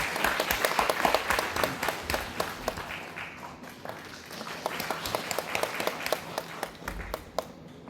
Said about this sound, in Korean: 회장님 올라오실 때 큰 박수로 환영해 주시기 바랍니다.